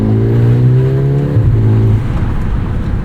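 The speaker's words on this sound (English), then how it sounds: "I think most of the engine noise here is basically just kind of piped in." Loud, smooth engine drone of a 2024 Mercedes-AMG GLA 35 while driving, its sound partly piped into the cabin, rising in pitch before a shift and settling again, with road rumble underneath.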